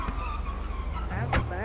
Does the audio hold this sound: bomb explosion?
no